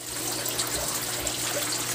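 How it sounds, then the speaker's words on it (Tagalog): Water is poured over a mass of packed krill to loosen them at home, a continuous close splashing gush that stays steady throughout. "ganito ginagawa ko ngayon kapag binubuhusan ko ng tubig para kumalas na yung mga krillings natin"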